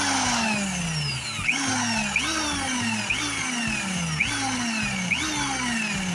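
Power drill repeatedly triggered while boring a hole in an aluminum part of a 5.5-25HP Evinrude boat motor lower cowl mount, a loud close whine that rises and sags in short bursts about once a second.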